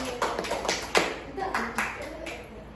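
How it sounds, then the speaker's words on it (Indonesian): Classroom students clapping during a teaching simulation, a loose series of sharp hand claps at uneven intervals, close and moderately loud, with some voices mixed in. "berikan tepuk tangan untuk temannya yang sudah berani menjawab"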